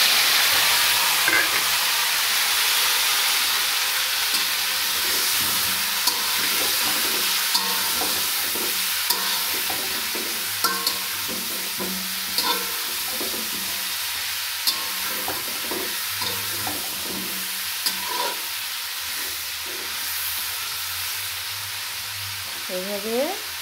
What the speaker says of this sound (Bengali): তেলটা গরম হয়ে গেছে। এখন দিচ্ছি পটলগুলো।